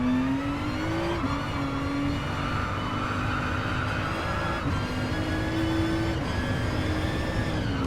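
A race car engine in a sim racing game runs a lap, its steady buzzing drone dipping and climbing in pitch with gear changes and throttle lifts, loud and continuous with no talking.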